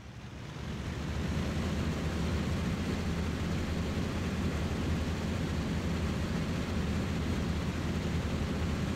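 Steady, loud engine roar of a propeller warplane in IL-2 Sturmovik building quickly at takeoff and then holding as a broad, unbroken drone with wind rush.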